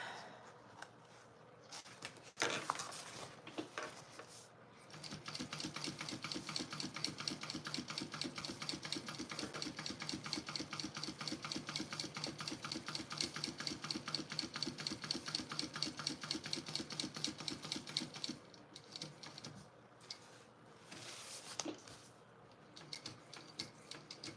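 A sewing machine stitches a basic zipper pocket on a bag, running in long, fast, even bursts with short pauses between runs. The motor hum and needle chatter are close and steady, and no one speaks.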